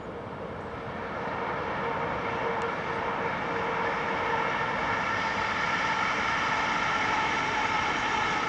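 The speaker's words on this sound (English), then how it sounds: "And that in fact is an HST. One of the higher speed trains" Low, steady rumble of an HST high-speed train rolling past between Sandling and Dover, swelling slightly in the first second and then holding a constant roar with no voices.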